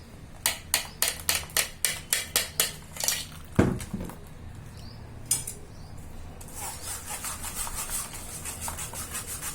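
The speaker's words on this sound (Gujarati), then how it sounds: "હવે આપણે તેને એક મોટી ગરણી લઈ અને ગાળી લેશું" A metal spoon scrapes rhythmically against a large sieve while straining mango water for pickles, in a quick series of strokes, then continues as softer, steady rubbing and clinking.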